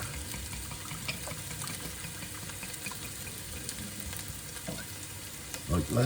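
Red wine poured into a hot pan of softened ingredients to deglaze it while cooking beef short ribs. A continuous bubbling sizzle runs throughout, a brief voice speaks, and louder scraping comes at the end.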